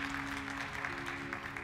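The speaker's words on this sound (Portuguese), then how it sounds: "Você pode dar um aplauso a Jesus por essa palavra?" A church congregation claps during a sermon, giving a short, even wash of applause at moderate level that holds steady throughout and sits under a faint steady hum.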